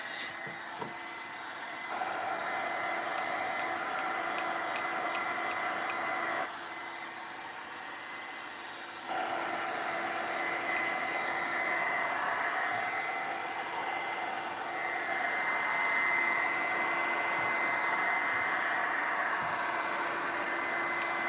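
A hair dryer blows steadily at close range, cutting out briefly partway through before switching back on and running again.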